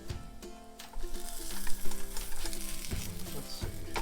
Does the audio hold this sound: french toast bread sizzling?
yes